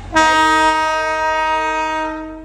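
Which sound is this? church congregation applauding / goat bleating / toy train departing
toy train departing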